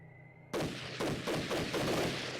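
Gunfire in the GameCube game Army Men: Sarge's War: after a quiet start, a loud burst of shots erupts and repeats in several rapid, evenly spaced volleys.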